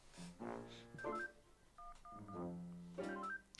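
Telephone dialing in the Henry Stickmin video game: a quick series of clear electronic keypad tones, several beeps in short bursts with small pauses between them.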